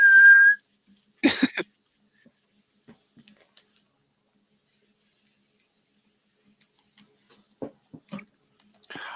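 A person whistles one short, clear note, followed by a cough and a few faint, scattered clicks and rustles in near silence.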